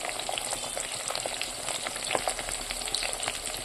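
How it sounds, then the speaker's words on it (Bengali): Small puti fish crackle and sizzle steadily in hot oil, a dense, close spattering that continues without pause. "এই কটা দিয়ে দিয়েই ভাজা করবো।"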